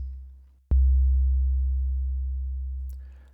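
A single FM-synthesized bass note from a Deluge synthesizer, with a fast attack and a long decay, struck once and fading steadily under three seconds of a low deep tone, a faint click near the end.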